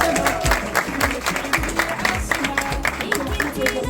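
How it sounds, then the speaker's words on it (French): A crowd applauds cycling race champions at an outdoor ceremony for a Djibouti bike tour, steady clapping running throughout with voices talking over it. "on applaudit les champions quand même les gars"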